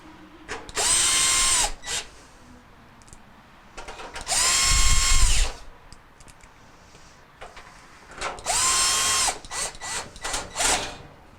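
A power drill drives three screws into the top of a Whirlpool dryer during a heating element repair, with three separate whirring bursts of a couple of seconds each and quiet handling clatter in the gaps.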